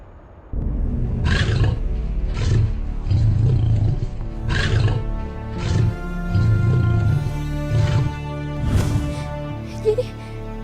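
A tiger roars again and again in loud, close bursts spaced about a second apart, with no talk over the roaring.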